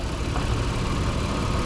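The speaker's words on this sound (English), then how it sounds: "it's a phenomenal engine that sounds beautiful, very reliable too" The 3.5-liter VTEC V6 of a 2020 Honda Odyssey Elite idles in a steady, even low hum with a constant broadband drone, close and unchanging, with no talking.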